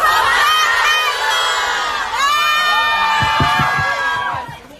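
Crowd at a drama's opening-ceremony promotional event shouting a chant together in unison, loud and close, with two bursts of massed cheering voices one after the other.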